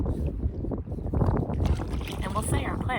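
Gusty wind buffets a microphone out on the water in a kayak, a continuous roaring rumble with small splashes and lapping, while someone talks over it.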